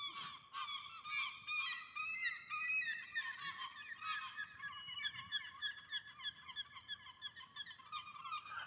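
A flock of geese honking continuously at a distance in Sandusky, overlapping calls in an uneven, chattering rhythm with no voices.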